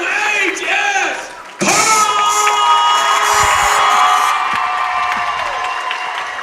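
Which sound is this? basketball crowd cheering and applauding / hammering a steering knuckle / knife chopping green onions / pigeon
basketball crowd cheering and applauding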